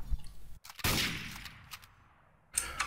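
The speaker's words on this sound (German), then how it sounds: "Alter, da hat jemand geschossen." Gunfire in Garry's Mod Trouble in Terrorist Town: a sharp burst of shots near the start, a loud gunshot with a decaying tail around one second, then more shots near the end, moderately close with no talk.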